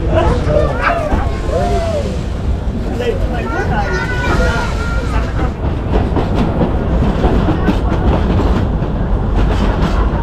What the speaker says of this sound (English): one of the last steam trains in Romania